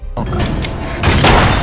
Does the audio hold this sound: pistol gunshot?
yes